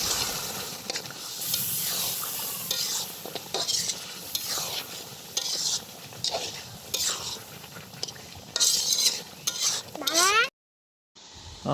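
Native duck meat with spices stir-fried in a hot pan, loud continuous sizzling broken by repeated scraping stirs of a utensil, ending with a brief silent gap and a final scrape.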